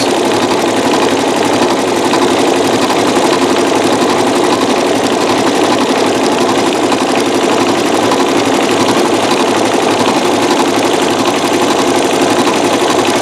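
A Janome MC9900 sewing machine stitches with metallic thread, a steady loud mechanical whir running without a break from start to finish, no voices.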